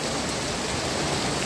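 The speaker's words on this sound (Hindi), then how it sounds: "देखिए कितनी तेज़ बारिश हो रही है" Heavy rain pours down on a kitchen garden, making a dense, steady hiss that stays constant and loud throughout with no voices.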